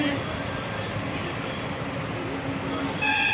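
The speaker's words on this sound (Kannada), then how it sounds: "ಅಲ್ಲಿ ರೈಲ್ ಹೋಗ್ತಾ ಇದೆ ನೋಡಿ" A train passes near a temple, a steady broad rumble of rail cars running throughout, fairly close, with a voice speaking over it.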